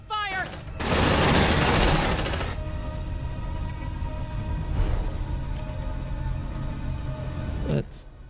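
A squad in Aliens Dark Descent lays down suppressive gunfire: a loud sustained burst of automatic weapons near the start, then lighter scattered shots and rumble over a droning ambient bed.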